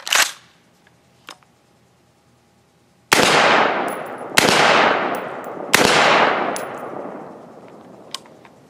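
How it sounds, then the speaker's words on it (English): Three loud rifle shots with 50 grain V-Max rounds outdoors, each a sharp crack with a long decaying echo and bright metallic pings from steel plates; faint clicks come before them. "now with the precision of this rifle, I was able to hit that big plate no problem"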